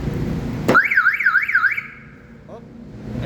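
A 2026 Mitsubishi L300 FB van alarm suddenly starts with a sharp click, then wails in a rising-and-falling warble for about a second before cutting off, loud and close.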